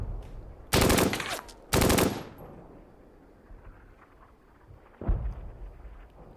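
Gunfire in the Close Combat video game: two loud sustained bursts of machine-gun fire early on, a lull with a distant rumble, then another sharp burst near the end.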